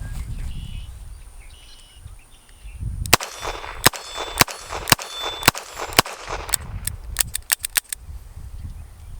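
A Smith & Wesson 432 Ultimate Carry revolver in .32 H&R Magnum fires at an outdoor range: about a dozen sharp, loud, close cracks, first evenly spaced, then a quicker cluster near the end, with a quiet outdoor background between shots.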